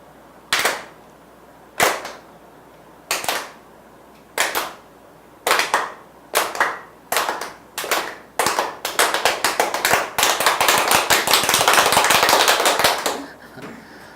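A group clapping in a clapping exercise: sharp single claps at spaced intervals that grow quicker, then a long sustained burst of rapid clapping, with a brief pause and short claps between.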